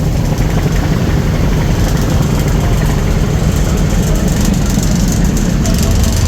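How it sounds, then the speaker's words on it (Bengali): The Zam Zam-7 river launch runs with a loud, steady low engine roar and churning propeller thrust, a constant dense rumble heard close up without pause. "এখান থেকে প্রবলার থ্রাস্ট দেখেন ভালোই চলতেছে"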